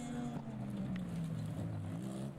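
Porsche cars, among them a Porsche 911, race through twisty sections of a historic rally, heard as a faint, continuous engine whine with harmonic tones that rise and fall as the cars work through the bends.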